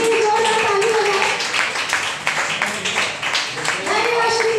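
An audience claps for the district in-charges at a women's empowerment gathering. The clapping is steady and crowd-wide across the whole stretch and mixes with background voices.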